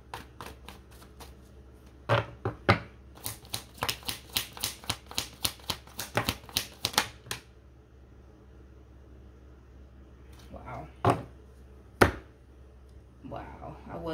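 Rapid crisp riffling of a tarot deck being shuffled, a quick burst of card snaps, then a few separate slaps and taps after a pause.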